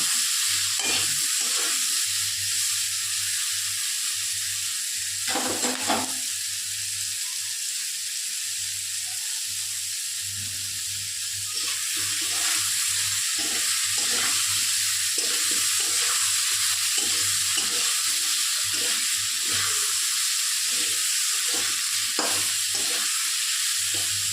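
Potatoes fry in hot oil in a pan for a Bengali bitter gourd and bata fish curry, a steady close sizzle with repeated scraping and stirring clatter throughout and no talk.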